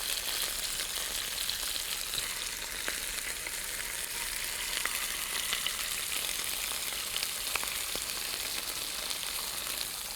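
Boneless pork chops sauté in a hot pan, a steady, close crackling sizzle that holds even and unbroken throughout with no talking.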